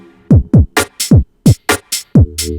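Dark UK garage bass line built in the Serum synth, a series of punchy, short low notes with sharp attacks and quick downward-swept decays in a syncopated pattern, loud and alone.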